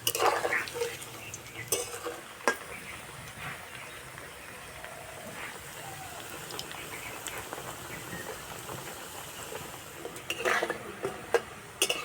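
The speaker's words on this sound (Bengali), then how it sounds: "পিঠেগুলো হালকা বাদামি কালার করে ভেজে নেব" Semolina puli pitha fry in oil until light brown, a faint, steady sizzle and crackle like light rain, with occasional sharp clicks of a utensil against the pan and a busier stretch of stirring near the end.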